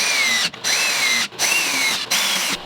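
A power drill whines in three or four short bursts with brief pauses between them, close up, as screws are driven into wooden skirt boards.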